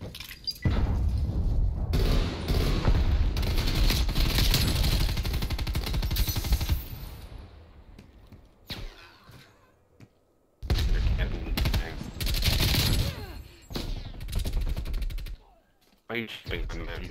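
Gunfire crackles through a shooter video game match, bursts of rapid automatic fire and single shots in two loud clusters separated by a quieter gap, with players talking.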